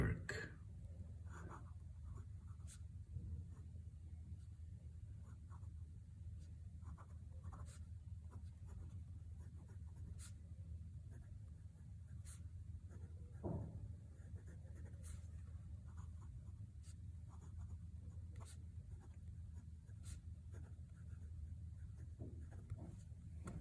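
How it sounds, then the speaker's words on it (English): A Sheaffer Prelude fountain pen nib scratches faintly across paper in quiet strokes, with soft intermittent scrapes and ticks over a low room hum. "so that you can hear this, the nib at work"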